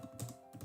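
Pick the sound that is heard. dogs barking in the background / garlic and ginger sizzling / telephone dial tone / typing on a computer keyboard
typing on a computer keyboard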